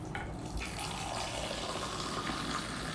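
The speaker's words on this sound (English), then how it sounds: "So I'm going to, all I have to do is pour it in" Hot ginger tea made with half milk and half water streams from a pan into a cup, a continuous close gush and splash that holds steady throughout.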